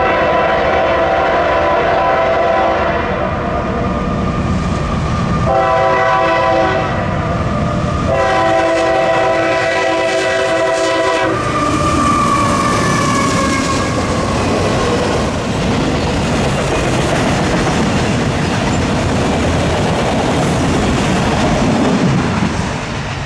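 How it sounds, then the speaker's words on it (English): An eastbound CSX freight train of auto-rack cars led by a single unrebuilt AC44 locomotive passes nearby, its horn sounding in several long blasts before the loud, continuous rumble and clatter of the cars rolling by. "it didn't take long for the eastbound to show up, which was auto-racked with a single CSX AC44 leading"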